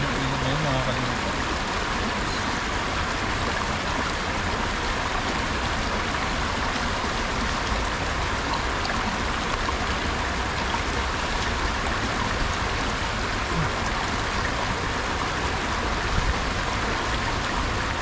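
A river stream flows with a steady, broad rushing hiss that carries on unbroken and fairly close, like constant water over rocks, with no clear talking above it.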